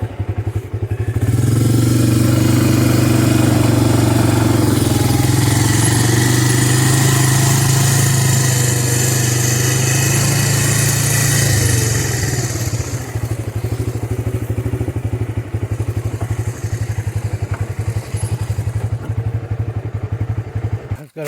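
A Honda Big Red utility vehicle's engine runs loud and close throughout while hauling logs on a new trailer, a steady mid-pitched motor drone with clattering and occasional thumps from the load, easing slightly toward the end.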